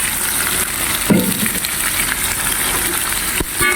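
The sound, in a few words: stirring spicy ulam frying in pan with oyster sauce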